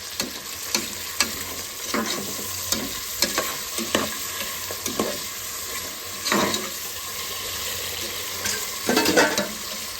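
Onion and capsicum stir-frying in a hot pan for spinach pulao, with a steady sizzle broken by repeated scraping strokes of a spatula across the metal at an uneven rhythm, close and fairly loud, no talking.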